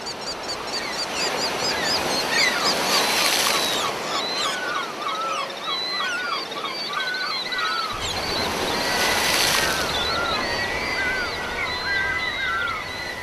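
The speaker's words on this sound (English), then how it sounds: "the waves return to gulp down the last remaining eggs" Ocean waves roll and wash continuously on a film soundtrack while seabirds screech loudly and repeatedly over the surf, the waves swelling twice into louder rushing crests.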